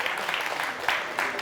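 Studio audience clapping for a contestant after a student quiz show's blitz round, a steady moderate patter of applause with small swells, heard alone without talk.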